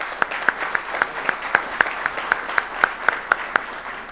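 A conference audience applauds at a national coffee growers' congress, with claps picked out distinctly in a slow, fairly regular rhythm, close and steady for the whole stretch.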